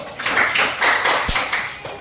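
Students in a chemistry classroom clap together in a quick rhythmic pattern, a run of sharp, close claps in short bursts with no talking.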